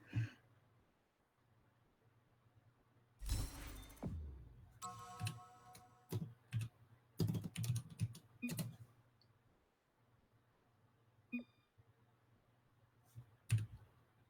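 Sparse bursts of keyboard clicking and key taps break through a quiet room hum, with clusters of clicks separated by near silence, close but soft.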